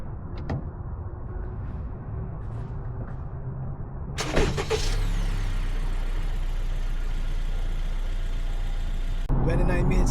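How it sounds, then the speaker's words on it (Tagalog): A car is on the road, with a steady engine and road rumble running under background noise. The sound grows louder and fuller partway through and cuts off briefly near the end. "Punta tayong kotse, biyahin tayo ng 1 oras at kalahati."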